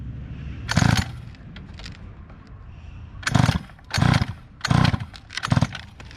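A small engine being pull-started with some throttle applied: a brief sputter, then a pause and a run of short loud revving bursts in quick succession, close by, with no talking.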